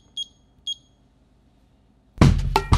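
A kitchen timer set for five minutes while homemade keto ice cream chills gives two short, high beeps about half a second apart. A loud burst of clattering handling noise follows near the end.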